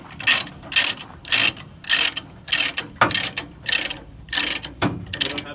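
A ratchet load binder is cranked to tighten a chain on a tilt trailer, giving about ten loud, evenly spaced ratcheting bursts of clicks, each roughly half a second long, close up with no voices.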